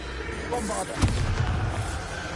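Bombarda spell blast in Hogwarts Legacy, a single booming explosion with a sharp onset followed by a short rumbling tail, heard over steady game ambience.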